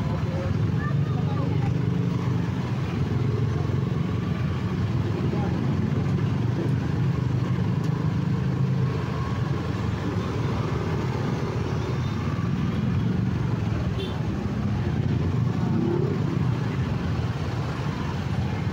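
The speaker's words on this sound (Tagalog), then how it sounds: "traffic na nga dito mga kamaster" Dense road traffic of cars and motorcycles crawls through a crowded street in the Philippines, a steady continuous engine rumble and hum lasting throughout, with someone talking over it.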